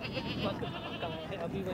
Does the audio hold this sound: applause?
no